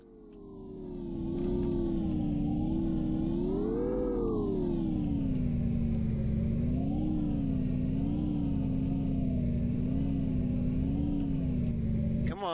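A vehicle engine in the space survival game Empyrion rises quickly and then holds at a high, wavering revving drone for the rest of the stretch, loud and alone with no talk over it.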